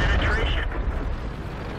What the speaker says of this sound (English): Artillery takes a shot at the enemy and misses.